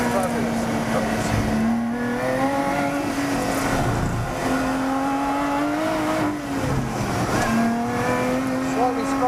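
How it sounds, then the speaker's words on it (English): A Lotus Exige Cup 430 sports car drives hard on a race track, its engine droning loudly as it rises and falls through gear changes, with someone talking over the noise. "Such a noisy car though."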